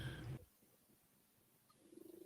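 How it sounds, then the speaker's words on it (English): Birds call nearby, with a short burst at the start and rhythmic cooing pulses at the end around an otherwise quiet room. "Sorry about the birds."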